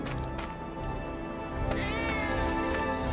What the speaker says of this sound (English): Ah, that was definitely a cat.